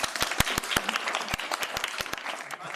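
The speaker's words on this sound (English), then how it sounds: "I think they deserve a round of applause, Tommy." Audience applause for panelists at an ecocide, human rights and environmental justice conference: a smattering of sharp individual claps over a steady bed of clapping, fairly close and continuous, with no talk.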